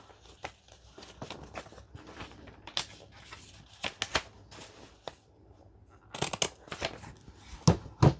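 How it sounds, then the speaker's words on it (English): A handheld circle punch cutting through paper envelopes made from book pages, heard as a series of close, sharp clicks and crisp paper snaps at irregular intervals, with faint handling rustle between them and no talking. "I'm going to go ahead and put my circle punch right in here and do each one of these envelopes as well"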